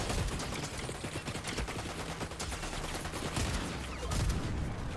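Continuous heavy gunfire from a multiplayer shooter game, rapid overlapping shots rattling without pause for the whole stretch, close and loud.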